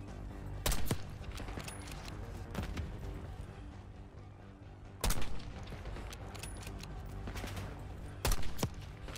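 Gunfire and mortar blasts in the Call of Duty Black Ops 6 campaign, with three loud, sharp explosive bursts spaced a few seconds apart over a dense, continuous rumble of battle.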